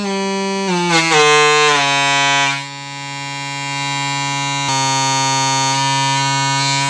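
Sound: 3-inch mid range woofer playing a test tone

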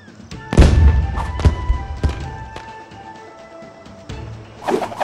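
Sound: fireworks weapon exploding in video game Bowmasters

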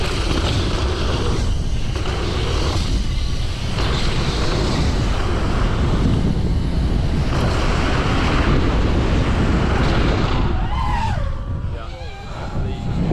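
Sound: massive gust of wind

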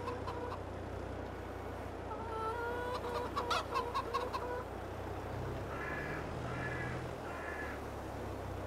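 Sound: chickens clucking in Farming Simulator 22 video game

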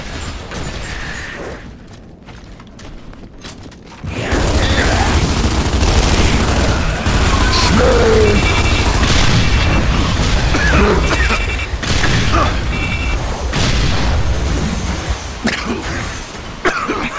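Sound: gunfire in a video game

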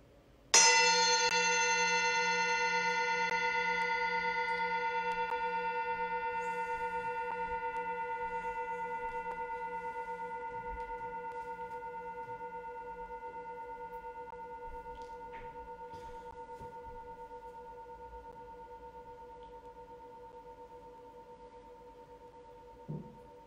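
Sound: bell ringing and fading out

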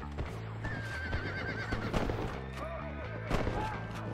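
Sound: horse neighing in video game Red Dead Redemption

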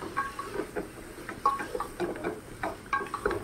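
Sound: stirring soybean biryani mixture in a pan

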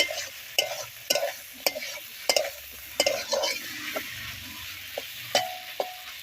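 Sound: stirring small fish frying with tomato in pan

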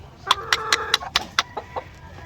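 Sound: white leghorn chickens clucking in battery cages

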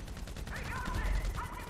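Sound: gunfire in the video game GTA 5

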